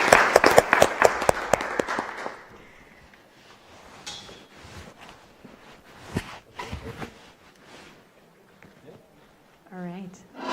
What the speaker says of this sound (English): Give a big applause for Eveline Nieuwenberg and Johan